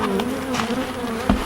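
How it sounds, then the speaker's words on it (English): Honey bees hum around a nuc hive in a close, continuous drone, with a few louder buzzes as individual bees pass near. "Well, there's bees."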